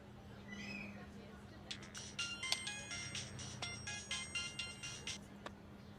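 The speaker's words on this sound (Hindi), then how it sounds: "किसका फोन है?" A phone ringtone plays quietly as a string of bright, repeated electronic tones that start a couple of seconds in and continue for several seconds against a low background hum.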